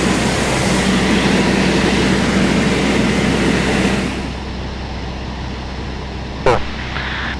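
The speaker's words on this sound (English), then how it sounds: "back flying the airplane" A Cessna 172 engine drones steadily and loudly from inside the cockpit in flight below 5,000 feet on a cross-country trip from Van Nuys to Santa Barbara. The roar eases slightly midway, with a brief click near the end.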